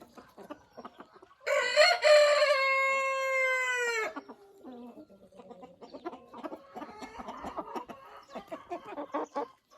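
A rooster crows loudly and close, one long drawn-out call, followed by softer clucking and chatter from hens, including a grey Silkie.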